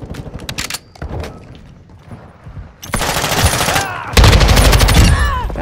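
An SO-14 rifle fires in Modern Warfare 2 gameplay, with scattered single shots early on and then loud, dense bursts of rapid gunfire, mixed with other game noise.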